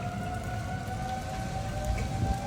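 Tornado sirens wail steadily in the distance, holding a flat, sustained tone under a soft patter of rain with no one speaking.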